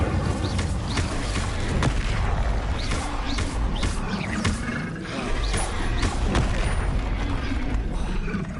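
An Incendio fire spell in Hogwarts Legacy roars on steadily, a loud crackling rush of flame punctuated by repeated sharp bursts and clanking impacts, with no voices heard.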